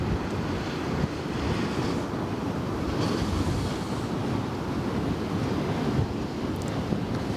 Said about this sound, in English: Got a waves hitting the sides there. Definitely still windy out.